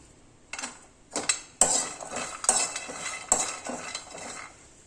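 Dry coconut stirred and roasted in a pan, the spatula scraping and clinking against the metal in several short strokes over a soft frying background.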